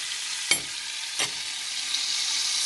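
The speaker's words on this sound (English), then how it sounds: "I'm going to put butter on the pan" Butter sizzles and melts in a hot pan with a steady, bright hiss, broken by two brief sharp crackles near the start, close by and without talk.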